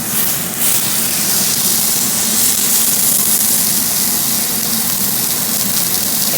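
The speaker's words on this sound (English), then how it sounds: "my pan is hot, you can see it smoking, and I'm going to have to turn on my fan in a minute, but you want to let it sear" Prime rib searing in a hot, smoking cast iron pan, a loud continuous hiss and sizzle held steady throughout, with no voices over it.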